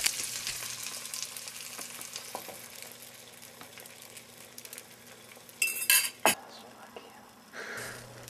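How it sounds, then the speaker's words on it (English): Eggs sizzle quietly in a pan with chopped chicken sausage for an omelette, a soft continuous frying hiss broken by a few sharp clinks of utensils against the pan. "then dump in the eggs."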